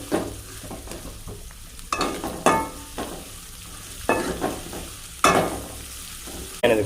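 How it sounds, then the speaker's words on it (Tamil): Onions and curry leaves frying in oil for ennai katharikkai are mixed in a pan: repeated scraping strokes and sharp clicks of the spoon over a soft, continuous sizzle, close but moderately quiet. "ஸோ இந்த மாதிரி நல்லா இதை மிக்ஸ் பண்ணி விட்டுப்போம்"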